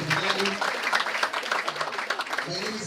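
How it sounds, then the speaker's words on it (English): Applause from an audience at an International Women's Day celebration, a dense steady patter of clapping that fills the whole stretch, with a voice briefly audible near the start and end. "Just a round of applause for everyone who's been on stage."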